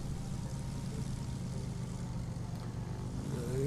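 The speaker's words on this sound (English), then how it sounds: "Makes a proper old-fashioned propeller aircraft engine sound, doesn't it?" Vintage DC-3 propeller airliner engine in the airport management game Airport CEO, a steady, continuous low droning hum holding an even level throughout without speech.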